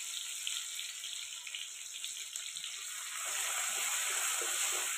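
Garlic, coriander and ginger fry in hot oil for a rustic tempering over a wood-fired village stove, giving a steady, fairly soft sizzle and hiss that swells a little louder toward the end, with no talking.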